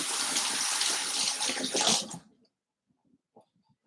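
Running tap water pours steadily over an onion being rinsed for a sweet jackfruit salad, a close splashing gush for about two seconds, then it stops, leaving faint small clicks and handling sounds.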